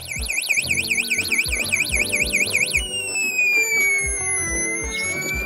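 Electric scooter anti-theft alarm set off by jostling the bike, a loud warbling electronic siren repeating fast up-and-down sweeps, then switching to a steady high tone, over low mechanical rattling and thumps.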